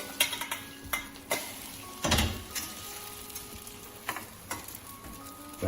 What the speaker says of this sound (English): the egg is now frying nicely